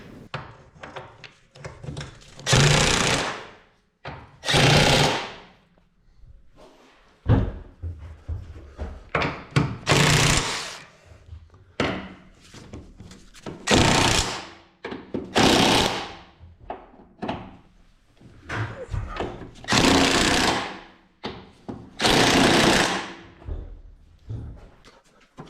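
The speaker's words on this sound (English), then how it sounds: "all I'm doing is inserting the front lower ball joint into the front lower control arms" Tool work in a home garage as a front lower ball joint is fitted into a car's front lower control arm: loud mechanical bursts, each a couple of seconds long, repeat about a dozen times with brief quiet gaps.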